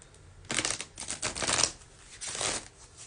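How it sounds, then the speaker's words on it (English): Tarot cards are shuffled by hand in several quick riffling bursts separated by short pauses, close and fairly soft with no talking. "Shuffling my cards"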